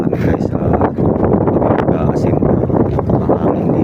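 Strong wind buffeting the microphone outdoors at a utility pole during pole-top assembly work, a loud constant broadband rumble throughout with voices talking.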